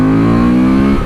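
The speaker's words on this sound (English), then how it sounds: "I think I'll rev the fuck out of it today" A 2024 Honda Transalp 750 motorcycle engine revving, a loud close steady drone with a strong even pitch that holds briefly before easing off at the end, with no talking.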